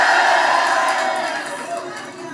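A crowd cheers and roars at a Pangil sa Pangil rap battle in Davao City, a loud, dense wall of voices that starts strong and slowly fades over a couple of seconds.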